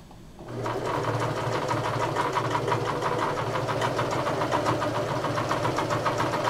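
A sewing machine stitches quilt pieces for a machine-pieced, hand-tied quilt. It whirs up after a brief quiet start into a fast, even, close-up mechanical chatter that holds steady to the end.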